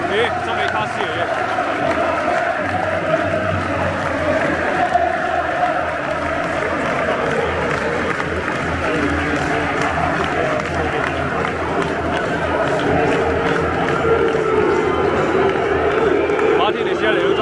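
A football crowd at Anfield during Liverpool's final home match of the season against Aston Villa keeps up a continuous roar with chant-like tones, while someone talks over it throughout.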